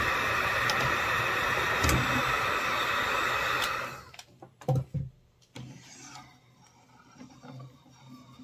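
A heat gun blows steadily on a golf club hosel to loosen the head, a loud close whooshing hiss that cuts off midway, followed by a few scattered handling knocks.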